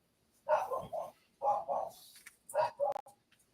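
A dog named Marky barking close by, three short bursts of barks in a row separated by brief pauses.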